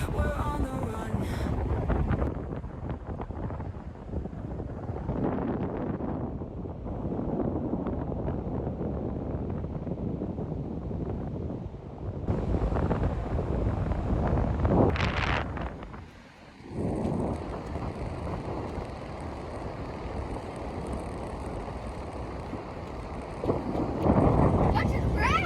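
Cold, gusty wind at the beach buffets the microphone in heavy low rumbling bursts that rise and fall, dropping briefly before surging again, with people's voices heard at times.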